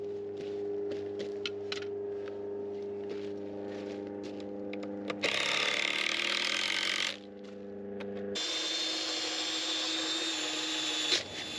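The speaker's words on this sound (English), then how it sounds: "You need to drill a pilot hole" Electric drill whirring into wood in two sustained bursts, drilling a pilot hole for a wooden field gate, with a steady mechanical hum between them and no talking.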